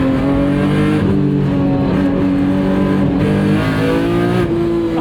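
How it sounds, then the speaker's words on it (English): A BMW E46 M3 with a 1.5-way limited-slip differential revs hard on a race track, its loud engine note rising and falling through sustained throttle blips and shifts, close and continuous with no talking. "Oh, I love this throttle response. The heel toe is so natural."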